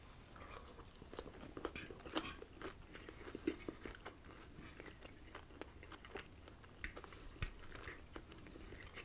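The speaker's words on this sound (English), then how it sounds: "Celery's good, give it a little bit of crunch." Close, crisp crunching and chewing of celery during a shellfish meal, irregular bites and wet mastication sounds repeating for several seconds, intimate and quiet with no talking.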